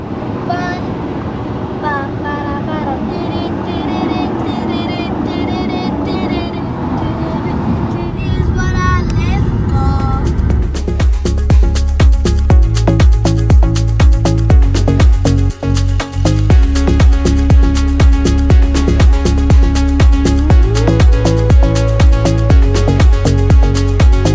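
Car cruising along a highway between Dallas and Oklahoma City, a steady road and engine drone under a talking voice at first, then louder, more constant in-cabin rumble once the voice stops, with no one speaking.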